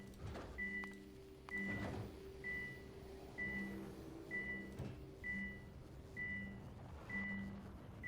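Calcite alarm in a space platform building game, beeping in a regular series of about nine short tones spaced roughly a second apart, fairly quiet over a faint background hum.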